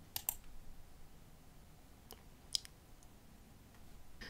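A computer mouse clicks a few times while submitting an assignment online, sharp faint taps spaced apart over a quiet background hiss.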